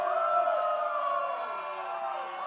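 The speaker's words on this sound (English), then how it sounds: "Crowd strongly letting EC3 know how they feel about him" Wrestling crowd at a live OVW event reacting to EC3 during a brutal main event, a steady sustained roar of voices with rising whistles and jeers, fairly loud and continuous throughout.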